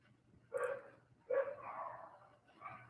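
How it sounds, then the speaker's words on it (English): Several dogs bark indoors in a few loud, separate bursts at moderate distance, with no talk over them. "all my dogs are barking"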